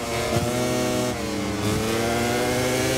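A motorcycle engine in a MotoGP video game, racing at the Mugello circuit in the Italian Grand Prix, drones loudly and steadily at high revs with a dense harmonic whine throughout and no pauses.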